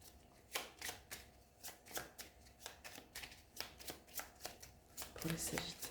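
Tarot cards are shuffled for a reading in a rapid run of soft, repeated riffling flutters, close and fairly quiet, with faint speech in the background.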